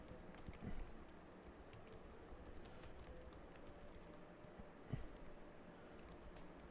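Quiet, steady typing on a computer keyboard, a close run of rapid soft key clicks with a couple of louder keystrokes standing out.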